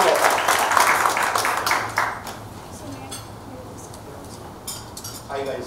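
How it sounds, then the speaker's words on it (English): An audience at a fire safety panel discussion in Mumbai applauds, a dense burst of clapping in the first two seconds that quickly fades to scattered claps and room murmur. "A big round of clap for him."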